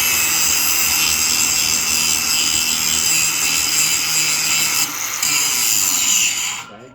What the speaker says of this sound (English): this grinding wheel is meant to be used on this surface